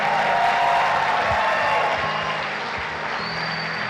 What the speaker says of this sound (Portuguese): Você pode aplaudir mais alto aí, irmãos?